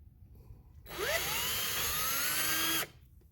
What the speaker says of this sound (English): So I'm going to go ahead and drill this hole out here.